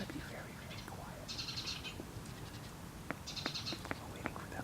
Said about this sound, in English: We're waiting for that little bird to come outside to talk to us.